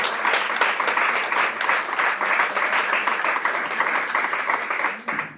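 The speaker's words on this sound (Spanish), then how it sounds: "Un aplauso para él, por favor." Audience at a seminar on social care service quality applauding, a dense, steady burst of many hands clapping that fades out near the end, with no voices over it.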